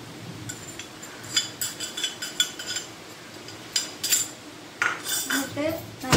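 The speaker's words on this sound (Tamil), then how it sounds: "நமக்கு நல்ல போல மிக்ஸ் செய்யாம் அப்போம் நல்ல போல மிக்சு செய்யனாம்" Rava cake batter being mixed in a bowl, heard as close, rapid clinks and scrapes of a spoon against the bowl in quick uneven bursts, loudest toward the end.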